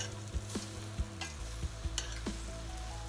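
Chickpeas are stirred and roasted in a pan, with a steady sizzle of frying under repeated scraping knocks of the spoon against the pan, close up with no voices.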